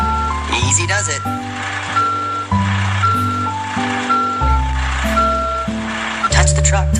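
A cartoon garbage truck backs up, with short, evenly spaced electronic reversing beeps repeating about once a second over bright, stepping background music.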